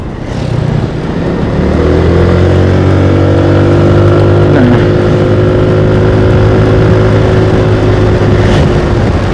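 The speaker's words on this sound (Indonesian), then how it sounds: "Jadi teriakan mesin itu mengikuti speed kendaraan" Yamaha NMAX scooter fitted with an Aerox gear ratio and Pirelli tires, its engine note rising as it accelerates, then holding a loud, steady drone with harmonics that climb with road speed.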